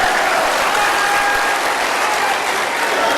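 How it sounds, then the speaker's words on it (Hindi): Dense, loud applause from a large audience at a gathering in India, a steady wash of clapping that holds through the whole stretch without a break. "ताली अब झारखंड वाले अकेले क्यों बजाए भाई, सभी बजा लो।"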